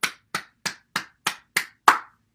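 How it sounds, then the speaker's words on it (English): Seven sharp, evenly spaced hand claps close up, the last a little louder, during a bouncing qigong morning practice, with silence between each clap. "Clapping."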